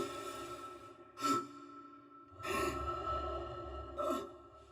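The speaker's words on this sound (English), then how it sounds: "when Isaac was sprinting or injured, you would hear additional grunts to emphasize his level of exertion" Isaac in the video game Dead Space Remake breathes with exertion, letting out three heavy, close gasping grunts at uneven intervals over quiet background ambience.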